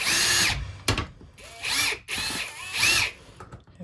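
A power drill whirs in several short bursts while backing screws out of a Dirt Devil Endura Express vacuum in a dark shed, loud and close with brief pauses between runs.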